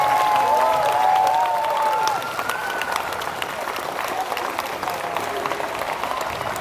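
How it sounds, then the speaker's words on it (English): Steady applause from an audience at a youth lead climbing championship final, sustained and moderately loud, with faint voices and a whistle-like tone early on. "Big round of applause for this too."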